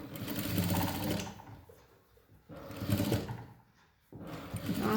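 A sewing machine stitches saree fabric into an umbrella dress in three bursts of fast, whirring running, close and alone, with brief quiet pauses between the runs.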